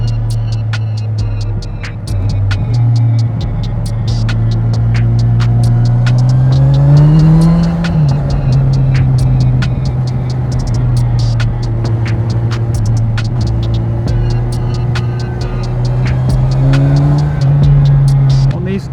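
Kawasaki Ninja 1000SX motorcycle ridden on twisty mountain roads, its engine droning steadily and rising in pitch as it accelerates, dipping and climbing again through bends, with constant wind rush throughout.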